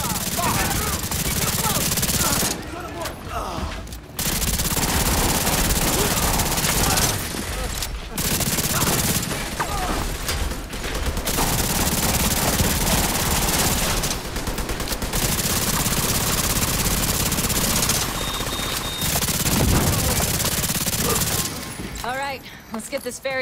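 Heavy automatic gunfire from a firefight on a ferry's upper deck in the video game The Division 2, with dense, loud, sustained bursts broken by a few short pauses.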